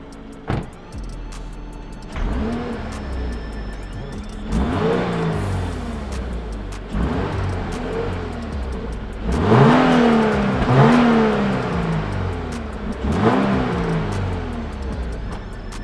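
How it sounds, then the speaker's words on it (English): A 2023 Toyota GR86 with its stock exhaust is revved several times while parked, each blip rising and falling with a fairly mild, subdued tone over a steady idle, with no talking. "I'm gonna go ahead and do some sound clips of the stock exhaust and what it sounds like."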